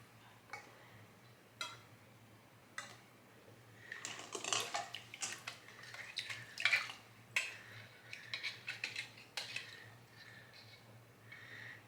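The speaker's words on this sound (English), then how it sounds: "These other jars are all wiped off now. So put these lids on them." Metal lids set onto wiped glass jars of homemade strawberry jam, a scattered series of light clinks and taps, some sharper than others, fairly faint over a low steady hum, no talk.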